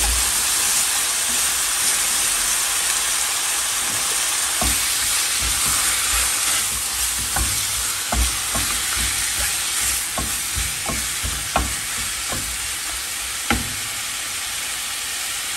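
Ground beef frying in a pan, a steady broadband sizzle with scattered pops and crackles standing out sharply through the middle and later part, fairly close and continuous with no talking.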